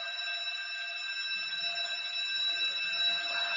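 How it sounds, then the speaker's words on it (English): A building fire alarm sounds, a steady, piercing electronic tone holding for several seconds, loud and continuous with faint room noise beneath. "It might be a real fire alarm."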